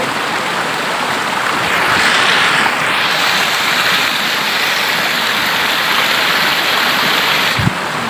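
Flood water flowing across flooded rice fields in Thailand, a steady loud rushing wash that continues unbroken throughout, with a brief low thump near the end.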